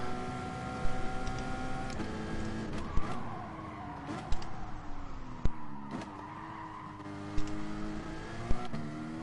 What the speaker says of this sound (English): Too eager on the throttle. Spits her out sideways.